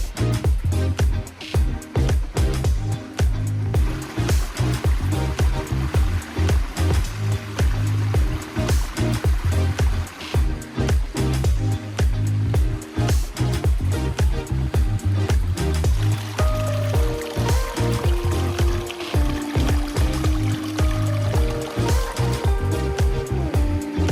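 Water pours and splashes steadily in a garden ecosystem pond built by Ben Harris Design in Melbourne, a continuous, fairly loud rushing flow that stays constant throughout with no pauses.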